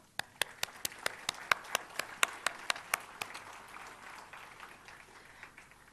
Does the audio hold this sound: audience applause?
yes